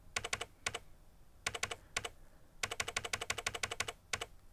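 Fast keyboard typing in a Japanese dating sim: rapid bursts of crisp keystroke clicks in quick clusters separated by short pauses, close and clear, with no talking over it.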